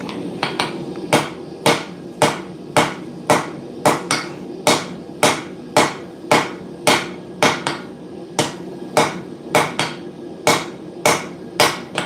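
Steady, evenly spaced hammer blows ring out as a San mai puukko blade is forge welded, about a dozen loud metallic strikes close by, with no speech.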